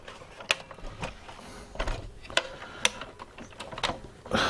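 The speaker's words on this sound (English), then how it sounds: "Lots of things clicking, plasticky, snappy noises." Sharp plastic clicks and snaps come from a Roberts radio being taken apart by hand, a close, irregular series of short crisp transients spread over several seconds with no talking.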